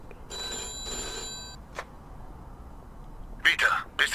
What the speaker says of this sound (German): Ist ja gut, ich gehe ja schon ans Telefon.